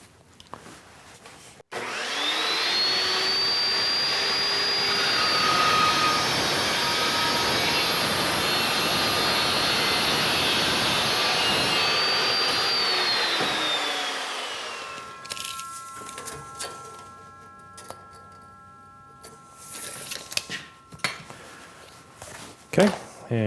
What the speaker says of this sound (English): Got all the pieces here that we cut over on the saw. That Evolution saw just does a beautiful job.